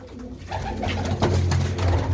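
Pigeons coo in a newly built loft, several soft, low throaty calls overlapping at close range over a faint background murmur.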